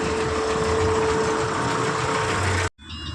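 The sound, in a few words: truck engine while reversing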